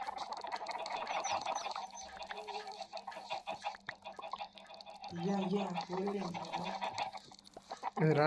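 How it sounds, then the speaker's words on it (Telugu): Chickens clucking on a farm in the video game Minecraft: repeated short game-style clucks and squawks, fairly quiet, alternating with people talking over them. "రాదేంట కోడి?"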